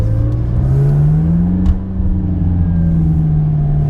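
A McLaren 570S sports car engine hums loudly and steadily, its pitch rising slightly and then easing off, with a short bump midway.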